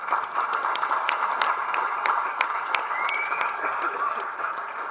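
Audience applause at a Tamil speech event by director Mysskin: steady, dense clapping from a crowd, sustained at even loudness throughout, with scattered louder individual claps standing out.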